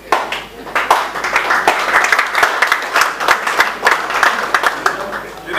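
An audience at a lecture bursts into applause, with lively clapping that swells and dips unevenly and stays bright throughout, a murmur of crowd noise mixed in.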